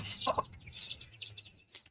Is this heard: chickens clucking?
yes